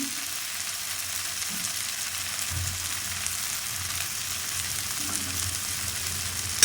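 New potatoes and peas fry in a pan with a steady, close sizzle while being stirred, with occasional soft low scrapes beneath the continuous hiss.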